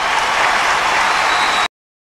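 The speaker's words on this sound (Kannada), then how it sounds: "ಜೋರದ ಚಪ್ಪಾಳೆ ನಮ್ಮ ಲಾಗಜ್ಜ ಅಂಡ್ ಟೀಮ್ಗೆ" Loud audience applause for a comedy team on a televised comedy show, a dense roar of clapping that cuts off abruptly into silence.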